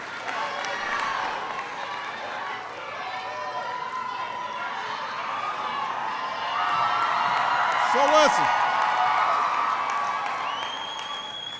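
A big crowd at a political rally for health insurance reform cheers, whoops and applauds continuously, the roar swelling midway, while a speaker's voice is heard briefly over it.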